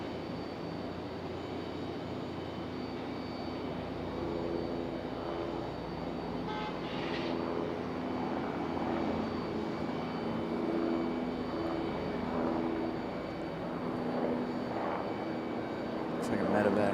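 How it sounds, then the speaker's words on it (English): A Frontier airliner arriving from Tampa at Raleigh-Durham International Airport, its jet engines a steady loud rumble over the full span, heard from nearby along with voices talking. "This Frontier coming in from Tampa."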